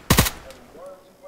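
Two quick gunshots crack out back to back in the DayZ video game, loud and close, followed by a faint trailing echo and low ambient tones.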